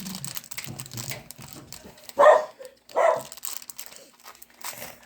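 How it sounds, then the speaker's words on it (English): A household dog barks in a home kitchen during apple pie making, two short loud bursts standing out from quiet rustling of pastry dough being rolled. "the dog's barking."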